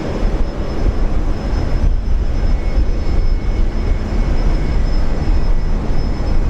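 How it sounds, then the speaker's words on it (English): An Emirates Airbus A380 arriving at Brisbane Airport, a loud, steady broadband engine roar that fills the whole stretch without letting up. "A380 arrival."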